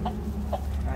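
A young rooster clucks softly a few times, short throaty calls close by over a low background hum.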